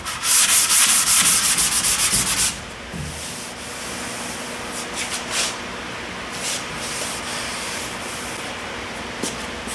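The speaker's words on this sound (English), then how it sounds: "I got the rear quarter sanded down." A car's rear quarter panel sanded on a Thunderbird before purple pearl paint, with loud steady abrasive rubbing at first, then quieter continuous grinding with faint scrapes, near and without talk.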